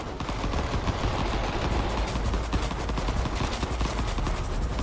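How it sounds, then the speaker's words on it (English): Rapid machine-gun-like weapon fire from the video game Vital Shell rattles on without a break, dense, loud and close, with continuous bursts layered over game noise. "Oh, I like that sound. It's like a machine gun."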